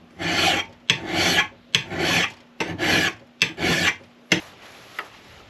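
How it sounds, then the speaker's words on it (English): Rhythmic rasping strokes of an axe file's fine side on a wood chipper blade bevel, six firm passes in a steady back-and-forth pattern, close and fairly loud, followed by a couple of lighter scrapes and small taps. "I'm going to use this axe file instead on the, not the coarse side, but the fine side."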